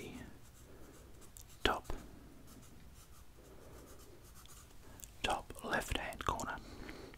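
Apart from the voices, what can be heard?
pen writing on a map of New Zealand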